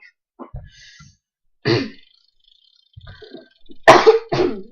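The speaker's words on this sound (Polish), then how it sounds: "ale mam taki kaszel lekki" Several dry coughs and throat-clearing sounds close by, in short bursts separated by pauses, with a harder double cough near the end, during float fishing on the Rio Negro.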